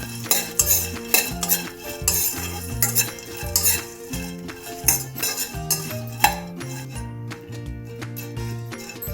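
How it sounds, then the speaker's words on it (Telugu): A metal spatula rhythmically scrapes and clinks in a kadai while sun-dried bitter gourd slices are dry roasted without oil. The stirring strokes come close and steady, with a faint sizzle underneath. "ఇదే కడాయిలో కాకరకాయ ముక్కలు కూడా ఎండన ముక్కలు ఉన్నాయి కదా, వేయించేసుకుందాం"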